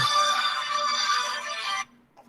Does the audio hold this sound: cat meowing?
no